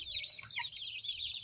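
Chickens cluck and chatter softly, several birds overlapping in short high calls over a low hum, fairly quiet and continuous.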